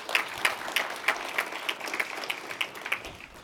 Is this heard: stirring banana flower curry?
no